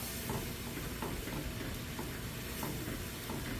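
Milk is stirred into a flour sauce in a hot pan for cheesy scalloped potatoes, a continuous close sizzle with rhythmic scraping strokes of the spoon, and no talking.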